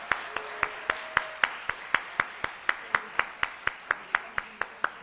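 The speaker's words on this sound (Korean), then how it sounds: "박수로 축복하겠습니다." A church youth-service congregation claps in steady unison, about four sharp claps a second, loud and even in a reverberant room, with no talk over it.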